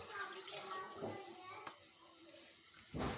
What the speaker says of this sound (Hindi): इसमें मैं ये पानी डाल रही हूँ 1 कप